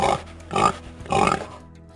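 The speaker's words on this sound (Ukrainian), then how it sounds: "Це свиня." Recorded pig grunting in a simple farm-animal sound set, with three loud, rough grunts spaced evenly and heard alone without talk.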